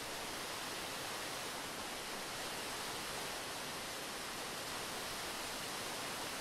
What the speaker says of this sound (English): Bit of a waterfall there.